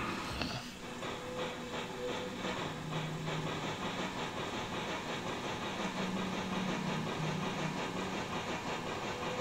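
A train from the game OFF runs with a steady mechanical chugging rumble and soft hissing, a continuous rhythmic drone throughout, moderately loud, with no talking.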